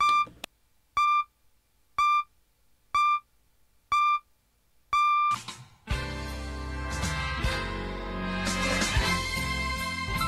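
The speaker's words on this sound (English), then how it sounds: "the beeps will signify that it'll be exactly 7 p.m. CKDU time" Series of six short, evenly spaced pure-tone time-signal beeps from a CKDU FM radio broadcast in Halifax, marking the top of the hour, the last one longer, followed by a loud burst of broadcast music.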